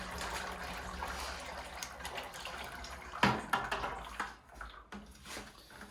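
Pottery glaze mixture poured into a bucket, a steady watery trickle and slosh with a sharper splash midway, close and moderately quiet.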